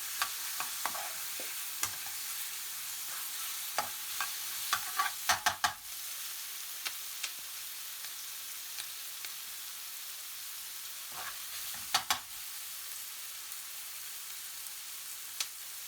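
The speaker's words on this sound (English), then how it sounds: "Add the tomato paste and stir through." Tomato paste being stirred through a sizzling pan of British Indian restaurant-style dopiaza, a steady soft fry with scattered scrapes and clicks of the spoon against the pan, plus a few louder clatters of stirring.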